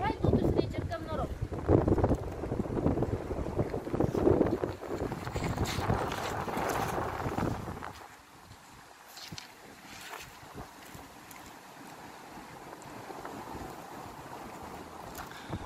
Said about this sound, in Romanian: Aici bate foarte tare vântul pentru că suntem sub pod